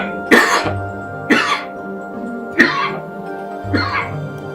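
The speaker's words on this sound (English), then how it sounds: "Excuse the coughing fit of the near dead." Four harsh, raspy coughs from a near-dead character in the video game Planescape: Torment come at roughly one-second intervals over a low ambient hum, close and fairly loud.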